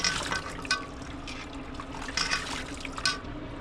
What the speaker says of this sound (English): Just a little bit of splashing, but if I don't put the towel there, this all gets wet.